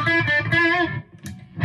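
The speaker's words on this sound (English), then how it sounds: "Let's hear it with crunch." A crunchy, distorted Epiphone Les Paul electric guitar plays a couple of sustained notes up close, then a short pause and another struck chord.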